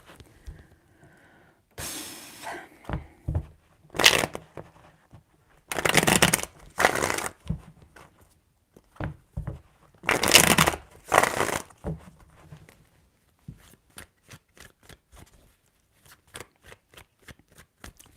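Tarot cards riffle and slap together in several quick bursts of crisp fluttering shuffles, separated by short pauses and followed by lighter taps and flicks, close and with no speech.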